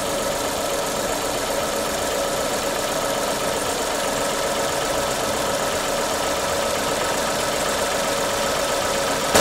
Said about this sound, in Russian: Вот включил двигатель